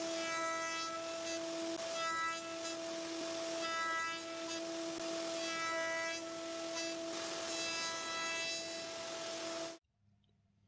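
A steady, high-pitched router whine with a sustained tonal hum and cutting noise as it routes wood for a cabinet top, running continuously for about ten seconds before stopping abruptly.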